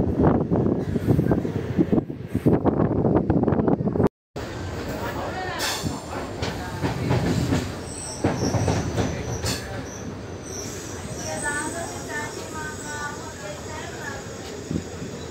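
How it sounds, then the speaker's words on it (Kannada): A passenger train runs on the rails as it nears Mysore railway station, with loud continuous rumble, rattling and high wheel squeal over a steady clatter, interrupted by a brief dropout, while someone talks over it throughout. "ಎಲ್ಲ ಸೂಪರ್ ಫಾಸ್ಟ್ ಟ್ರೈನ್ಗಳಿಗೂ ಕ್ರಾಸಿಂಗ್ ಕೊಟ್ಟು ಈಗ ಮೈಸೂರು ರೈಲ್ವೆ ಸ್ಟೇಷನ್ ತಲುಪ್ತಾ ಇದ್ದೀವಿ"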